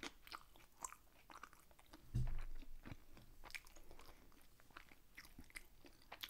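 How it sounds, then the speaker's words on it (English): Close, open-mouthed chewing of homemade Vietnamese spring rolls wrapped in gelatinous rice sheets, soft wet smacks and crunches in a loose rhythm with one louder bite near the middle, quiet and intimate with no talking. "Yes, I'm chewing with my mouth open."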